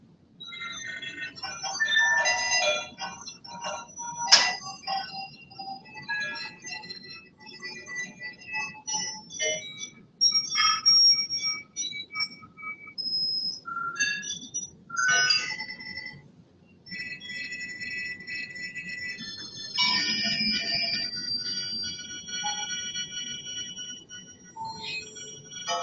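A generative electronic music piece plays sparse, bell-like sine and wavetable synthesizer tones with clicky accents, scattered pitched blips over a faint low hum. The texture stays steady and moderately quiet throughout, with no voices.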